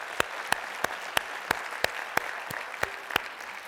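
Regular, evenly spaced claps ring out at a college state-of-the-address event, about eleven sharp strikes over a soft crowd wash, sounding like a small group or a single person clapping steadily rather than full applause.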